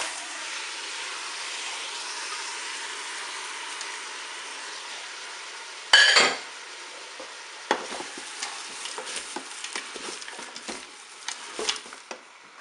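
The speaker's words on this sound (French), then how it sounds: "J'ajoute maintenant les poireaux." Sliced leeks tipped into a hot pot already holding salmon for a gratin in a multicooker, a sudden loud sizzling burst followed by steady frying hiss and scattered scraping stirs.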